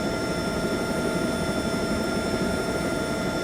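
Steady droning hum of an LAPD helicopter engine running at part throttle in X-Plane 12, an even, continuous whine with broadband rotor wash and no voices.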